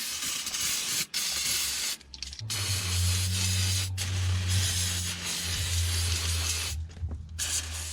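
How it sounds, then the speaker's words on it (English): Brake cleaner sprays in a loud, continuous close hiss over brake hoses on a BMW E87, with a few brief pauses and a low hum underneath. "Now we'll give everything a good rinse down with some brake clean."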